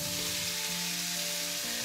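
Tomatoes hitting a hot pan already cooking pepper rings, a loud, steady broadband sizzle that fills the whole moment, close up with a faint tonal hum underneath.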